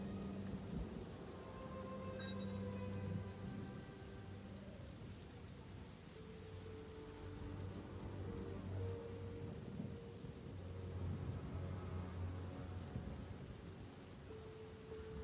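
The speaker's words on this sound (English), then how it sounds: "The game has a raining sound effect right now" Steady rain pours throughout in the video game Path of Exile 2, with low rumbling thunder beneath and a few faint tonal sounds drifting over it; no voices.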